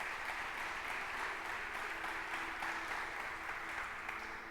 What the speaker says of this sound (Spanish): ¿Cuántos le dan palmas fuertes al Señor por esto?